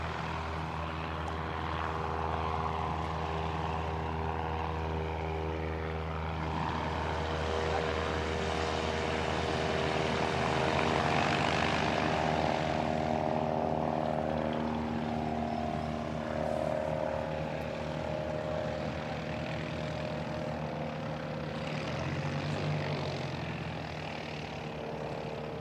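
A turboprop airliner taxiing at Christchurch Airport, its propeller engines giving a steady, moderately distant drone that swells and eases over nearly half a minute.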